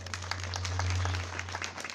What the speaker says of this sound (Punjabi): ਇੱਕ ਵਾਰ ਸਰਕਾਰ ਦੇ ਨਾਮ ਤੇ ਜ਼ੋਰਦਾਰ ਤਾੜੀਆਂ ਮਾਰ ਦਿਓ